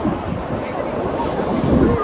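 Sea waves at Dhanushkodi beach in Tamil Nadu roll in a steady, close surf roar. Gusting wind buffets the microphone throughout.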